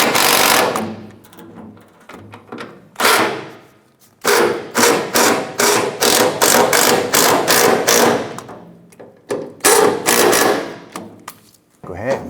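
A ratchet tightening the fuel tank strap bracket bolts on a Chevrolet S10: rapid bursts of clicking turns, close and loud, in several runs separated by short pauses.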